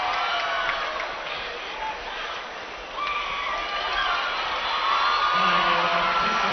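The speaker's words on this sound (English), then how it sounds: "Tanner crowd starting a thank you seniors chant." A crowd at a girls' high school basketball game chants a thank-you to the seniors, a broad wash of voices with whoops that grows slightly louder toward the end.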